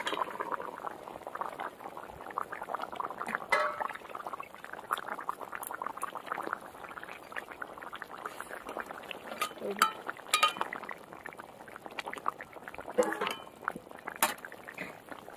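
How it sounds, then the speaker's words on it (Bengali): Fish curry broth bubbles at a rolling boil in a pot, a close, busy burble of popping bubbles with occasional faint clinks. "এই দেখুন বন্ধুরা ঝোল ফুটে উঠেছে।"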